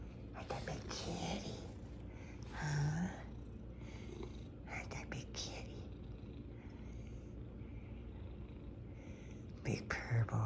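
A munchkin cat purrs softly and steadily up close in a quiet room, while a person murmurs and whispers affectionately nearby.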